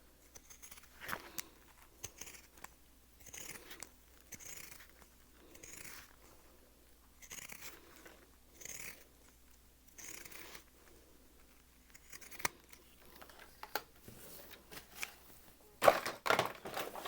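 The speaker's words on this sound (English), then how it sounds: "We'll see if these pinking shears will go through it." Pinking shears chomp through leather in a series of crisp, crunchy cuts at a slow, regular rhythm, close and fairly quiet, with a sharper rattle near the end.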